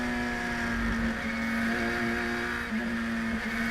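A Radical class race car in a Pirelli World Challenge race at Circuit of the Americas, chasing another car through the S's, gives a steady, loud, close engine drone with a sustained pitch and a brief dip midway.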